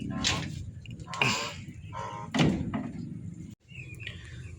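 A wooden door of a geese coop is pushed shut, giving several scraping knocks and a final thunk, with geese or other birds calling faintly in the background.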